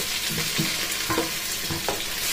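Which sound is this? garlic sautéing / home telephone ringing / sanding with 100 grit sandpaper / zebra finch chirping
garlic sautéing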